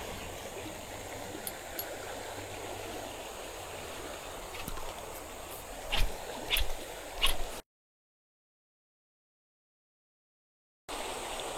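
A river stream flows with a steady, soft rushing wash during a camping and fishing trip, broken by a few faint knocks before a stretch of silence, then the water resumes.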